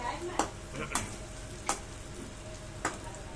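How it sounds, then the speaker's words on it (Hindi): Masala with garlic and green chilies sizzles softly in a pan while a spoon scrapes and stirs, giving a few sharp clicks against the metal over a steady frying hiss. "और गाइस ये हमने मसाला धीरे धीरे भून रहे हैं।"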